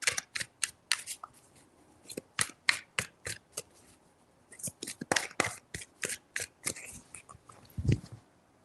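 Tarot cards being shuffled by hand come as a run of crisp, rapid riffling bursts and slaps, close and distinct, with a short pause midway before another quick flurry.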